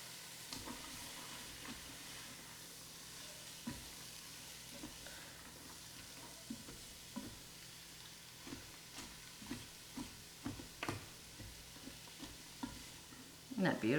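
Finely diced carrots sautéing in a Ninja Foodi for Cajun jambalaya, a faint steady sizzle broken by regular soft stirring taps and scrapes, ending in a few louder clatters.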